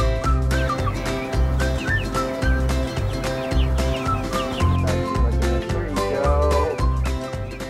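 Chickens cluck and chirp intermittently over a loud, steady rhythmic music beat.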